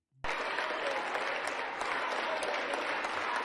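Steady, dense applause from a crowd starts abruptly and continues loud and unbroken, with no voices standing out.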